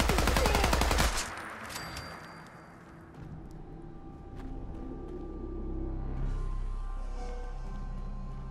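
Fallout 4 gunfire opens with a fast burst of automatic shots lasting about a second, then trails off into low rumble and ambient noise.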